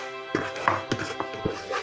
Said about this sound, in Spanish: Y la empezamos a amasar.